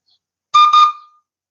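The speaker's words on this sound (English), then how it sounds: "Oh, there's that steam whistle that I have." A small salvaged boiler steam whistle sounds one short, loud, shrill blast. It has a brief stutter near its start and then trails off into silence.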